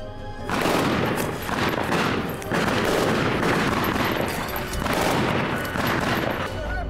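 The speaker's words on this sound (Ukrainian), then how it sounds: "Після точкових ударів відпрацьовують чергами." Automatic gunfire from a 7.62 Lustrator rifle at the front line rattles in sustained bursts, loud and dense, with short pauses between volleys and sharp cracks throughout.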